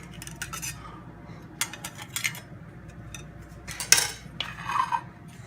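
Dishes and cutlery clink and clatter while gorditas are plated, one dish chipped; sparse light taps and scrapes with a sharper clink midway, close by over a low steady background hum.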